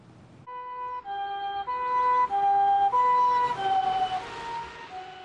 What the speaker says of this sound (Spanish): cuando oyes el sonido de una ambulancia